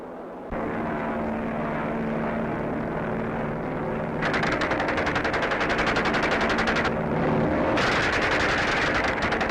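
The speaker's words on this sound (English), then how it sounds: "Here they go to machine gun a target on the ground." Hawker Hind biplanes diving to machine-gun a ground target, a loud propeller engine drone joined by long rapid bursts of gunfire that start, pause and resume, heavy and continuous, with no talk.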